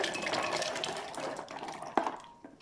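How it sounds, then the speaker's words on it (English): Water poured from a container into a blender holding soaked almonds, a steady splashing pour that fades out with a small clink near the end, close and alone. "make sure you add enough water to help you bring this into the milky consistency"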